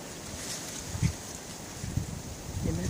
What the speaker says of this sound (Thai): ลมแรง